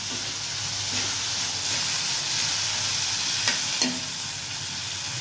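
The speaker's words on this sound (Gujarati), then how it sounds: "બહુ સરસ વઘાર આવ્યો." Steady loud sizzling of spices tempering in hot oil for Gujarati masala khichdi, a continuous hiss with a couple of sharp pops near the end.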